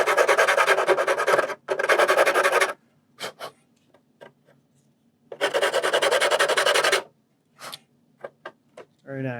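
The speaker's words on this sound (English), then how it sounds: "just for good measure, we're going to clean up with a little bit of a sand" Sandpaper rubbing on a model aircraft part during a P-26 Peashooter repair, two sustained rasping bouts with short scraping strokes and pauses between, close and fairly loud, no talk.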